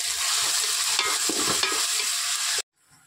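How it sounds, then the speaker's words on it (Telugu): Ginger frying in oil for a fish curry gives a loud, close, crackling sizzle with a few stirring scrapes, then cuts off abruptly into near silence. "పచ్చివాసన పోయేదాకా వేయించుకోవాలండి"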